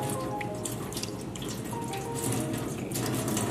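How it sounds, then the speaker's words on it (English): Water runs steadily from a tap onto a cardboard sheet, a continuous close splashing rush with no pauses and no voices. "let us wet this cardboard first"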